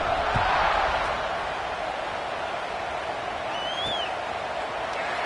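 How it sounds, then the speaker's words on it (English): Football stadium crowd after a score at a Michigan vs South Carolina game, a broad, steady roar of thousands of voices that holds loud and unbroken, with a faint whistle-like cry rising briefly above it. "this crowd is buzzing after that last score"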